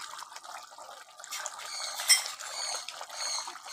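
Ghee being added to a pan of elephant foot yam curry, with soft liquid pouring and sizzling plus a light clink of a metal spoon against the cookware, close and fairly quiet.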